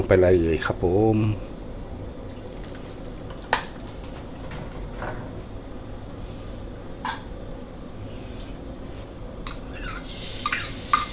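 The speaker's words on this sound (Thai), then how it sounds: "เราก็ตั้งกระทะร้อนแล้วนะครับ เราก็จะใส่น้ำมัน" Oil and garlic hit a hot wok at a Thai street food stall for shrimp stir-fried with three-colour peppers, giving a steady sizzle under a voice, with sharp metal scrapes and clanks of stirring at intervals.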